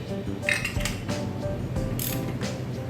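A ratchet wrench clicks steadily while someone works on a vintage Harley two-stroke motorcycle, close and fairly loud over a faint background hum, with no voices.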